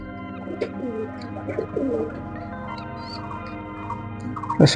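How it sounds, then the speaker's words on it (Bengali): Kaldam pigeon chicks give soft, nearby cooing and murmuring calls in short bursts over a low hum, ending in a louder rustle or flutter. "দেখুন দর্শকবৃন্দ কালদম কবুতারের বাচ্চাগুলো কেমন হয়েছে"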